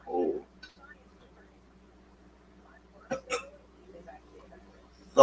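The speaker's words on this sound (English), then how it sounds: "I had to burp." A man lets out a short throaty burp during a live play-by-play stream of a Thursday night NFL game, Tampa Bay Buccaneers vs Atlanta Falcons, followed by a few scattered small mouth and room noises in a quiet room.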